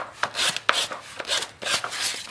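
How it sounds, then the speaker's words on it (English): Rhythmic scraping strokes of hand sanding, close and fairly loud, repeating in a steady back-and-forth pattern. "So just give it a quick sanding"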